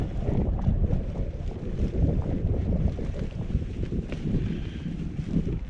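Strong wind buffets the microphone throughout on a hike in the Moffat Hills, a dense low roar with gusty surges and no voices.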